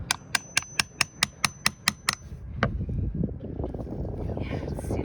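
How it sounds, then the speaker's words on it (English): A chisel is hammered into old, spongy material under the windlass mount of a 37-year-old sailboat, giving about ten evenly spaced sharp knocks in quick succession, then one last strike and scraping, rustling work noise. "I'm going to start with a chisel. Try to pry it out."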